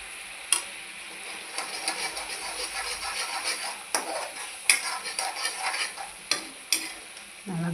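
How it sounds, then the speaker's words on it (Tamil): A spoon scrapes and knocks against a pan as masala is stirred into cauliflower cooking in coconut oil, over a soft steady sizzle, with sharp intermittent clinks and no talking. "இந்த மசாலாவையும் அதில் கொட்டி நல்லா கலந்து விட்டுருவோம்"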